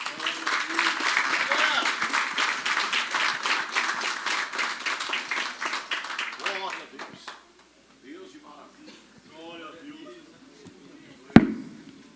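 A church congregation claps loudly and steadily for several seconds as a missionary is welcomed, the applause then fading out, followed by quieter murmurs and a single sharp knock near the end.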